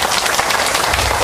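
Audience applause at a senior college talk, a brief dense burst of many hands clapping, fairly loud and filling the room with no voices over it.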